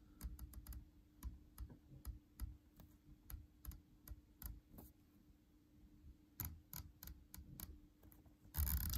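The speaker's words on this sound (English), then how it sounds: "The clicks on this are really nice." A Bushnell LRHS scope's elevation turret, mounted on a Remington 700P .300 Win Mag, gives off crisp, close clicks in two quick bursts as it is turned, with a faint steady hum beneath and no talking.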